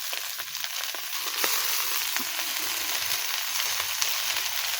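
Potatoes and onion half-fried in a pan produce an even, close hiss of sizzling oil with occasional soft crackles and a faint stir or two, steady throughout.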